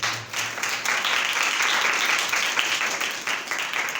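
A church congregation at a Hindi-language sermon gives sustained applause, a broad even wash of many clapping hands at moderate volume lasting about four seconds.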